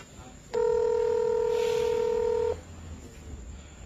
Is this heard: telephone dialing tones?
yes